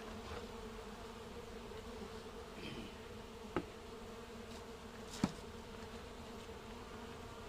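Bees humming inside a hive colony, a steady low drone throughout with two brief sharp clicks standing out against the buzz.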